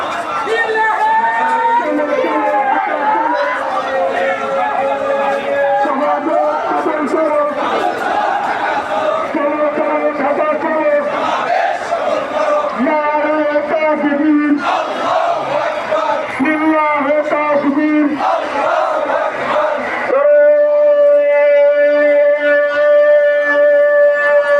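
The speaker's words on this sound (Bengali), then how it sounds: "পিছনে জামাতের মিছিল।" Jamaat political procession marching and chanting in a street on 18 July 2025, a loud, dense crowd voicing slogans in rhythmic call-and-response bursts that swell and fade, with a sustained surge near the end.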